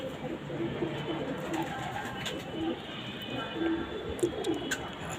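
Several pigeons coo softly in low repeated murmurs over steady background noise, the calls close but not loud and spaced irregularly, with no voices over them.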